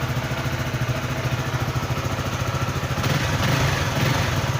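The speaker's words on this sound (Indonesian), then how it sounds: "untuk motornya udah bisa hidup normal" A Honda Sonic motorcycle engine, just repaired, idles steadily and close by with an even, rapid pulsing putter that swells slightly louder partway through.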